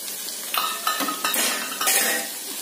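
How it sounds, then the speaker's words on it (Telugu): Lemons and garlic cook in hot oil for lemon pickle, with a soft sizzle beneath a few close scraping stirs of a utensil against the pan. "వెల్లుల్లి వేసి నిమ్మకాయలు మగ్గనేసుద్దాం"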